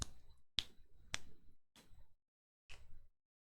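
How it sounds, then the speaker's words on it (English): Five sharp finger snaps ring out one by one in a quiet ASMR setting, crisp and close, with short uneven gaps between them. "Start snapping your fingers."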